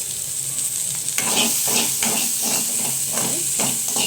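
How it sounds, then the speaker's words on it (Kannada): Onion frying in oil in a pan, a steady bright sizzle and hiss with soft stirring scrapes recurring throughout, fairly close and without talk. "ನೆಕ್ಸ್ಟ್ ಇದಕ್ಕೆ ಒಂದು ಈರುಳ್ಳಿನ ಹಾಕೊಂಡೆ. ಇದನ್ನ ಚೆನ್ನಾಗಿ ಫ್ರೈ ಮಾಡ್ಕೋಬೇಕು."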